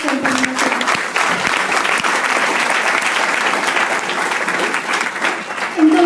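Loud, sustained applause fills a hall during a Nutrilite ambassador's nutrition talk, a thick and constant roar of clapping with a brief murmur of voices near the start and end.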